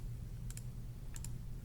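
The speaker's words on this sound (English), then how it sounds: "typing your function in here" Two quick pairs of soft key clicks tapped on a graphing calculator keypad, faint against a steady low hum.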